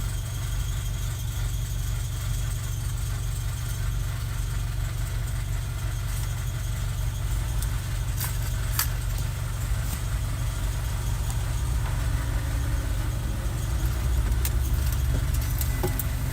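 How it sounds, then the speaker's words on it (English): A car engine idles roughly for a sustained stretch, a constant low rumble with a faint uneven texture and occasional light clicks and rattles, heard close with no speech. "My car sounds horrendous, chat."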